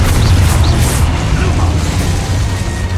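A Confringo blasting spell exploding in the video game Hogwarts Legacy, heard as a loud, dense, rumbling burst that carries through the whole stretch, with game voices and effects mixed in.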